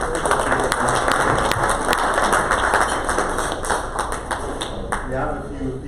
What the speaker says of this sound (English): I would like us to give a round of applause to David.